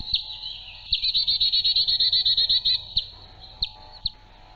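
A resident woodland tit sings a fast, even trill of high repeated notes, followed by a few sharp, isolated chirps against a quiet background.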